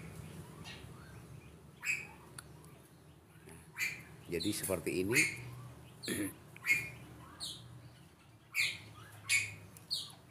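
Birds calling inside an aviary kept for home use: repeated sharp chirps and squawks at irregular intervals, fairly close, with someone talking underneath throughout.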